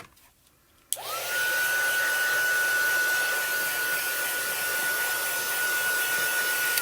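Heat tool blowing steadily to dry quick-drying Catherine Pooler ink on a rubber-stamped card, a loud continuous whoosh with a high whine that switches on abruptly and runs without pause, no talking.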